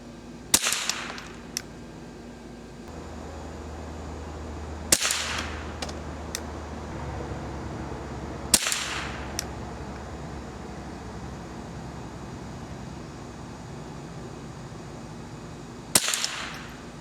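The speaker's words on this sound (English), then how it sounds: "I'm going to put 5 more in there. All right, 5 more rounds." A Marlin Model 60 rifle fires at a target outdoors: sharp, loud single cracks with brief ringing tails, separated by long irregular pauses, a few fainter pops between them.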